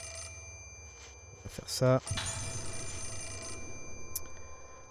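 A telephone rings in the horror game Project Zero 4, a short burst of bell-like trills standing out briefly in the middle, with someone speaking French over a steady background hum.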